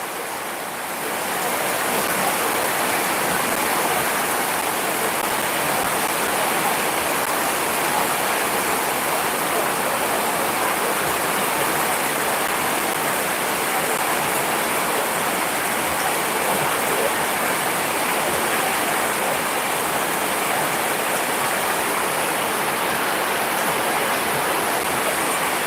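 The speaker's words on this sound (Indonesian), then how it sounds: "Hujannya kembali cukup deras." Heavy rain pours down steadily at night, a dense, even hiss of water that stays loud and unbroken throughout with no voices.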